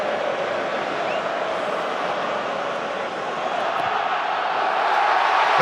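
Stadium crowd roaring and cheering at a France v England Six Nations rugby match after a successful French kick, a dense, sustained wall of noise that swells louder toward the end.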